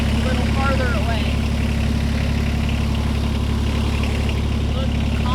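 Kioti CS2530 compact tractor engine idles steadily with a low, droning rumble throughout, close by, while people talk over it.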